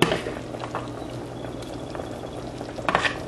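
Okra soup with palm oil bubbling in a pot, a steady soft simmering hiss with occasional louder pops and clinks near the end.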